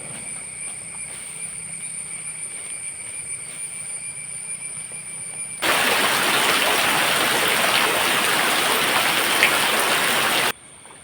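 Heavy monsoon rain comes down in a broad, steady roar that suddenly swells much louder midway, holds for several seconds, then drops away, with faint rain and a thin tonal hum before it and no voices.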